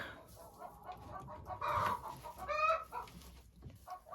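Hens cluck softly inside a chicken coop near the nest boxes, scattered short calls rising and falling with a couple of louder bursts, faint and close with no talking.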